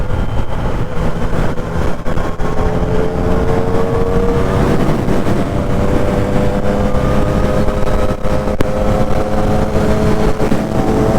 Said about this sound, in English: So you hear the engine. It's a free flow.